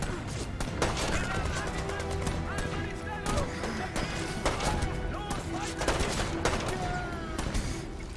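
Battlefield gunfire in the WWII shooter Brothers in Arms 3, with steady rifle and machine-gun shots and heavier blasts at mid distance under continuous excited talk.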